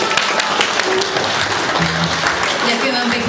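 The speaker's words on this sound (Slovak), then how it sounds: "Takže potlesk pre Paťku," Audience applause for Paťka at the close of a daylong gathering, a steady dense wash of many hands clapping together, sustained at an even level throughout with some voices mixed in.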